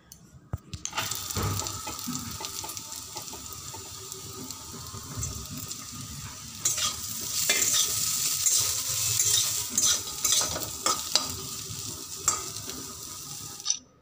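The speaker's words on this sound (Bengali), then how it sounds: "এইভাবে যখন উচ্ছে আর আলু সেদ্ধ হয়ে যাবে তখন পেঁয়াজ কুচি আর কাঁচা লঙ্কা কুচি দিয়ে দেব।" Bitter gourd, potato, onion and green chili fry in a pan with a continuous hiss and sizzle, stirred now and then with scraping sounds, up close and without talk.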